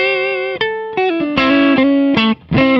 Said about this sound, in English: it turns up your guitar when you're quiet and it turns it down when you're loud, essentially compressing your signal